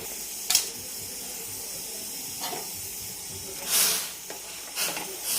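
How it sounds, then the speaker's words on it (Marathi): A pot of water with a little turmeric coming to a boil for Jodhpuri moong dal gives off soft intermittent hissing and bubbling bursts over a steady low background. "तर उकळी आली, डाळ टाकून घेऊ आपण।"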